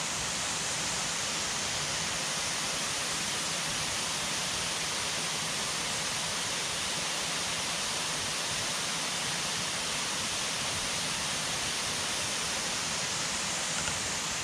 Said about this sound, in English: I'm just sitting here enjoying, listening to the waterfall and relaxing